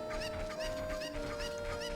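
Chickens clucking repeatedly in Zelda: Ocarina of Time, a steady run of short clucks over a constant droning background tone, fairly loud and close.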